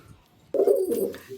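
After near silence, a pet pigeon at a home loft, likely the egg-carrying female or the male beside her, breaks into a sudden loud, close coo that rolls on for most of a second, then tails off.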